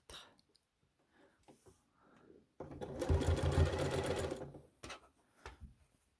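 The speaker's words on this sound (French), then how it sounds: "Et on va coudre à 1 cm." A sewing machine runs a short burst of stitching along a 1 cm seam on a fabric tube, a steady whirring for about a second and a half, with soft clicks and handling noises before and after.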